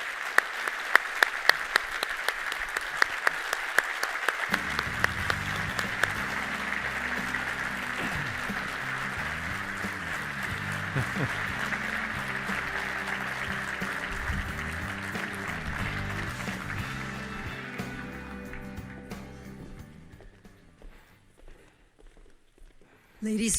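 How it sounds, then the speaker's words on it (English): An audience applauds panelists at a 9/11 twenty-year remembrance event, sustained steady clapping filling the room over music before fading out near the end. "So if you would please join me in a round of applause for our distinguished and incredibly special"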